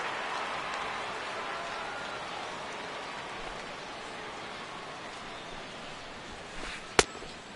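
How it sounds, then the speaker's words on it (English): Steady rain pours over a baseball stadium in a PS4 baseball game, a broad continuous hiss of drops with no voices, broken only by one sharp click near the end. "as the rain continues to fall here"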